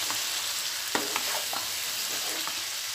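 Chicken sukka masala stirred in a pan, a steady close frying sizzle with a few soft scrapes of the spoon scattered through, no voices.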